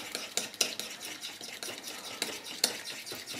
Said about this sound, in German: Und das Ganze umrühren